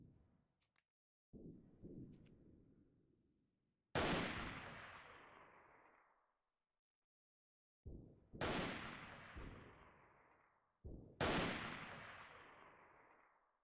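Gunfire in the shooter game Freeman: Guerrilla Warfare: four loud, sharp rifle reports, each ringing out into a long echoing tail, with short quiet gaps between them and a softer shot near the start.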